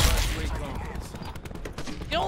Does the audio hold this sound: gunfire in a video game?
yes